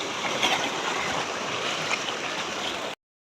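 Soft continuous rush of a shallow stream low on water near Sapteshwar Temple, Sangameshwar, steady and fairly faint, ending abruptly.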